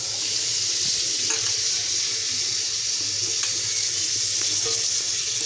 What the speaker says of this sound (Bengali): পেঁয়াজ মরিচগুলো যে কাটলাম ওগুলো দিয়ে দিচ্ছি